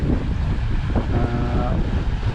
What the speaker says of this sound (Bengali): এই ট্রলারটা সন্দ্বীপ থেকে আসছে